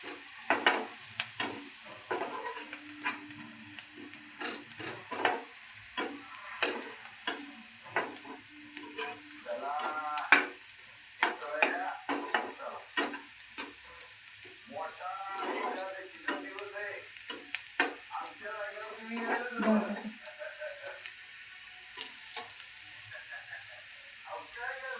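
Onions frying in a pan while being stirred, a low sizzle with scraping utensil strokes, heard under someone talking through most of the stretch.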